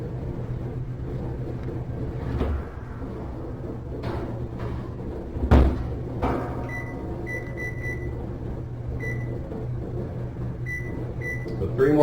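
Convection oven set to 350 for flank steak: a steady low hum runs throughout, broken by a sharp thump as the door closes, then a series of short electronic beeps.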